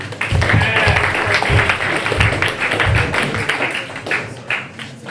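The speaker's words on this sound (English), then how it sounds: "Round of applause." An audience at a debate event applauds with loud, close clapping, a dense burst of hand claps with some heavier thumps, tapering off toward the end while voices are audible beneath.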